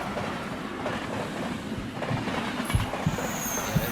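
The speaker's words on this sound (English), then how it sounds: "that's definitely a passenger train" A passenger train rolls past on the rails, a close, rumbling rush with rhythmic clickety-clack thumps from the wheels growing heavier toward the end, and a thin high squeal rising briefly near the close.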